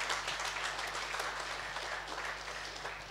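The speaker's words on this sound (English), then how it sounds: "I need you to clap for that" A congregation at a church service breaks into applause, a dense, even wash of many hands clapping that carries on steadily and eases slightly toward the end.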